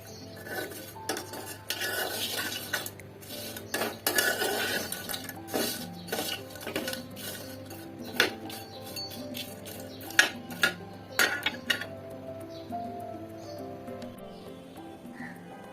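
Fried dried loitta fish pieces being washed in hot water in a metal pot, with repeated clinks and scraping of utensil against cookware and light sloshing, in bursts that thin out toward the end.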